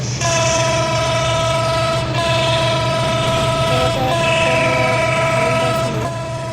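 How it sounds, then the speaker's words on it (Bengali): A locomotive in a train simulator game rumbles loudly at full speed with a steady horn-like tone and clattering over the track, with no voices. "তো আমাদের ট্রেনের গতি আবারও ফুল করে দিছি।"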